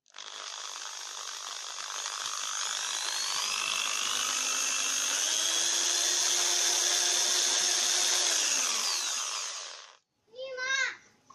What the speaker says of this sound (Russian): Включаю. Чисто китайскую дрель.